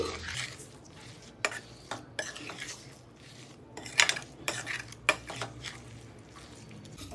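A spoon scrapes and clinks in a pan while curry leaves and a ground paste are mixed in plenty of oil, with soft, irregular metallic taps and a faint background hiss.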